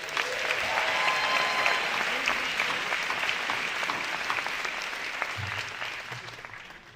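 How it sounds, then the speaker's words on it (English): Audience applause for the musicians at a university graduation recognition ceremony, a sustained wash of many hands clapping in a large hall that starts strong and slowly thins out, with a brief low voice near the end. "first a round of applause for our musicians."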